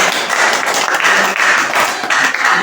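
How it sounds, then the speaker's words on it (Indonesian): Applause from a group of participants in a classroom session, a dense, loud burst of clapping that holds steady for a few seconds with no talk over it. "tepuk tangan dulu buat Indri."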